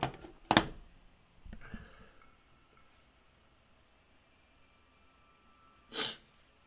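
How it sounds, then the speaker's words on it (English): Two sharp, explosive sneezes from a person, one early and one near the end, loud and close against a quiet background with faint breathing between. "I'm about to sneeze."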